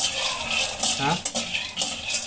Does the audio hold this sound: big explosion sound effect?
no